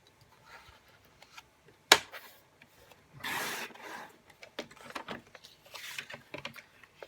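Calypso Coral cardstock is cut on a paper trimmer at a quiet desk, with scattered soft clicks, one sharp snap and a brief scraping slide of the blade.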